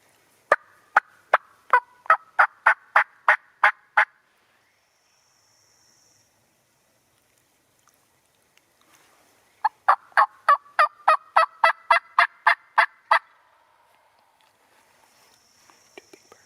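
Wild turkeys gobbling in Arkansas woods on a rainy day, two long rattling bursts of rapid gobble pulses separated by a quiet gap, clear and moderately close with no one talking over them.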